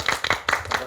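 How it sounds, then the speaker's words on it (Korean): A few separate hand claps from a small audience at a youth environmental education forum in Suwon, sparse and irregular, about half a dozen claps in a quick burst. "큰 박수로 환영해주세요."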